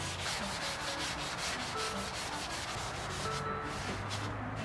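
Steady, continuous scraping of sandpaper rubbed back and forth over wood by hand, close and fairly loud, with a regular stroking rhythm and no voices.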